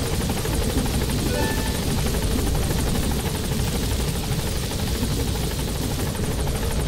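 Continuous heavy rotor chop and turbine whine from a helicopter in Metal Gear Solid V, loud and close throughout with no break.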